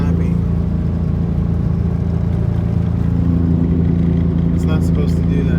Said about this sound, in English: Pretty sure this engine is not happy.